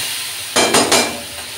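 Spice paste of ground chilli and garlic with nigella seeds is stirred in hot oil in a pan, giving three quick scraping, sizzling bursts close by over a low background hiss.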